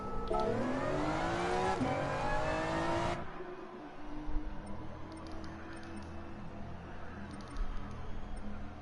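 Formula 1 car engine in a PS4 racing game on a lap of the ring, a loud high revving whine climbing through gears, cutting off, then a lower rumbling drone.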